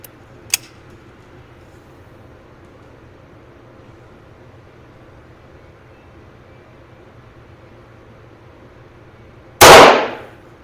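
Single sharp crack from a 1926 Hartford .22lr single-shot target pistol at an outdoor range, one brief faint pop early, then quiet before a loud burst near the end.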